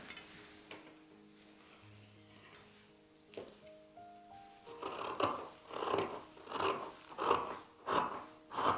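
Fabric scissors cut away excess cloth from a kaftan dress, a series of rhythmic crisp snips close by after a quiet stretch with soft background tones.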